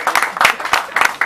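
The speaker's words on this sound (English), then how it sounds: "There's really nothing better for my ego than pity applause" Sparse, scattered clapping from a small show audience at an alligator act, a few hands patting out uneven bursts instead of full applause.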